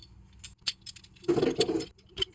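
Steel balls clink one by one into the cage of a dry, ungreased BMW Z3 CV axle joint during a rebuild, giving a few sharp close metallic ticks and a short rattling burst.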